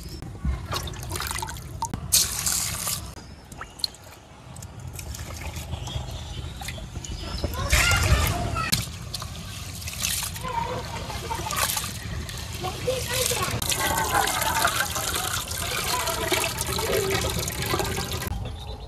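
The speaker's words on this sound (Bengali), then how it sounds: "ডাল চাল ধোয়া হয়ে গেছে" Rice and lentils for khichuri washed by hand in water in a village kitchen, with sloshing, trickling and splashing that build and continue steadily, close by, with some knocks and handling noise.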